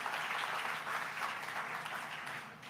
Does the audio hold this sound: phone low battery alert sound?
no